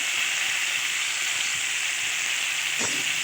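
Boiled new potatoes and peas hit spiced oil with tomato masala for a Bengali alur dom, giving a steady, close, dense sizzle and hiss that runs throughout with a brief clatter of stirring near the end.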